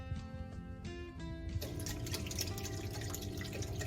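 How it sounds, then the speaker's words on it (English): Beef broth is poured into a pot of meatless vegetable stone soup, first as light drips and then as a steady splashing stream that fills the second half, fairly quiet and close. "we're going to throw in our beef broth"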